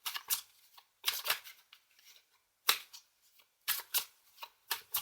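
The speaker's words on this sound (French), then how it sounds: "On va en prendre une deuxième carte du tarot." Tarot cards being shuffled close up in quiet bursts, several short papery riffles and flicks separated by brief pauses, with no talking.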